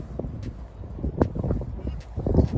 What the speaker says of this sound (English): The wind blowing, man. So excuse the wind.